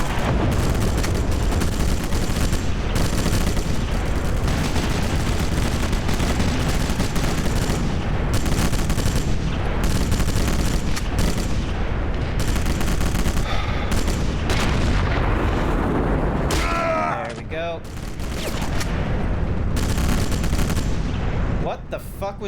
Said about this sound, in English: What the fuck was just shooting at me?